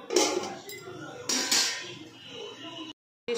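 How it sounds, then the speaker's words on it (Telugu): A metal lid clanks onto a cooking pot of broad bean and tomato curry, two sharp clattering hits close by amid kitchen noise, then a brief silence. "మూత పెట్టుకుందాం."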